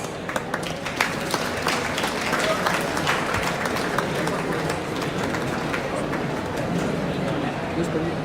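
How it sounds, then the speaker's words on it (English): Steady applause from a crowd, dense continuous clapping that holds evenly throughout, with a few sharper claps near the start. "Welcome them all with a big round of applause."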